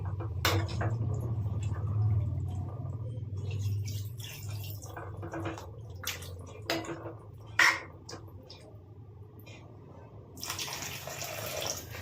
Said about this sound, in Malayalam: ഇതിനകത്തേക്ക് നമ്മൾ തേങ്ങയുടെ രണ്ടാം പാലാണ് ചേർത്ത് കൊടുക്കുന്നത്